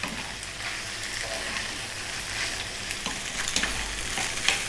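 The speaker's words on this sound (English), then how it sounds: "Just throw that pasta around in the pan" Pasta with dried herbs tossed in a pan for a smoked salmon cream sauce dish, a steady close sizzle with intermittent scraping and clattering bursts as it is moved around.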